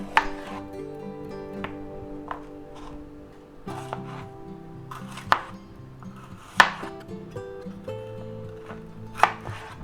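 A knife chops a green bell pepper into fairly big chunks on a cutting board, sharp single thuds landing at an irregular pace with a quiet tonal background between strokes.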